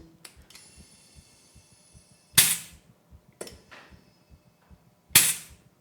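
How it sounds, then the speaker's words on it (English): Sharp hissing bursts of pressurised air released as a fill probe is removed from the bottom of an air gun tank with a 1/8 BSPP connection, three loud blasts among faint clicks and tapping, no talk. "So let's remove the fill probe from the bottom."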